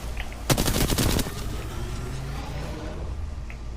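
Rapid burst of automatic gunfire in the video game Apex Legends, a loud rattling volley lasting under a second, followed by quieter game ambience.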